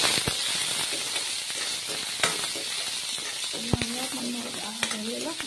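Onions sizzle and crackle in hot oil in a pan, a steady close-up frying hiss with occasional sharp pops, and a voice talks briefly near the end.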